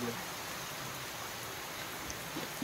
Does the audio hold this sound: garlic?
no